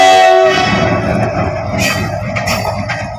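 A lone train engine crosses the Bangladesh–India border, opening with a loud horn blast and then rumbling close by with clattering wheels and occasional squeals.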